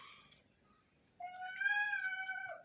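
A cat in a garden meows in one drawn-out, rising and falling call, close and fairly loud, after a short quiet stretch.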